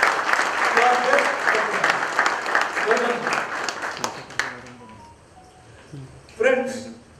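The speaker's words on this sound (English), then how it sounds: "Please give a big round of applause to our guest." An audience claps for the chief guest at an anniversary celebration, a full round of applause that starts strong and tapers off, with a voice talking over it and a brief loud cheer near the end.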